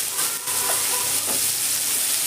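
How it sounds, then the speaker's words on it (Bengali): Potato pieces seasoned with salt and turmeric fry in hot oil in a pan, giving a steady, close sizzle and hiss that runs the whole time without talk. "নুন আর হলুদ দিয়ে আলুটাকেও আমি ভালো করে ভেজে দেবো।"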